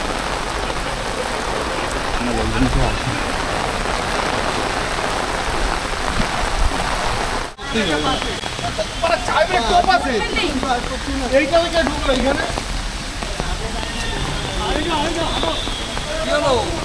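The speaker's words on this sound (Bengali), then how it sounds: "আর বৃষ্টি প্রচুর পড়ছে।" Dense, steady heavy rainfall pours down close by on a campus, a constant hiss of drops on surfaces, with people talking intermittently over it.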